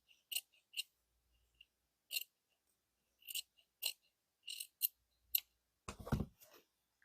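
Scissors cutting quilted fabric while sewing a padded vest: about a dozen crisp snips in short irregular clusters close by, separated by near silence, followed by a brief rustle of fabric handling.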